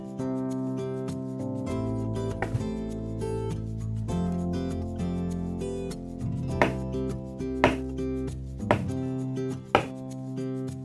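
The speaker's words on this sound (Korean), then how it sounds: "오이를 적당한 두께로 4등분합니다." A knife slices a cucumber on a cutting board, giving four distinct, crisp chops spaced about a second apart over soft background music, with no talking.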